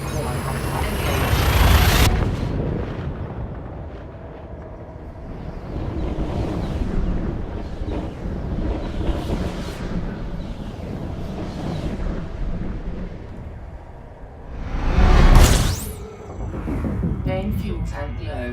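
A hyperspace jump in the space game Elite Dangerous: a loud rising whoosh and rumble, then a long roaring low drone with swelling tones, and a second sharp burst near the end.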